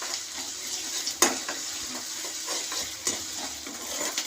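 Ginger paste frying in oil in a pan for a home-style Sunday curry, a steady close sizzle with soft stirring scrapes and a couple of sharper clinks of utensil against metal.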